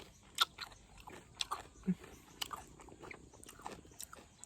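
Crisp sour mango being bitten and crunched, several sharp bites and crunches spread irregularly through the clip, close and fairly loud, with chewing between them.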